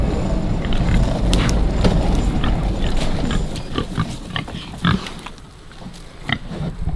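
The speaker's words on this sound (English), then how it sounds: "they are acting very, very hungry" Hungry farm pigs grunt and snuffle steadily up close, a dense low rumble of overlapping grunts with a few sharper squeals and thumps scattered through.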